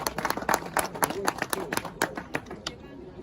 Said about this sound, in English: So can we give your committee a big hand of applause?